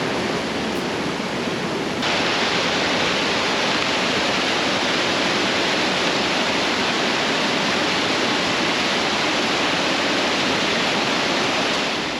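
River water rushes along a backcountry hiking trail in Cape Breton, a loud, dense, unbroken roar of flowing water that holds steady throughout.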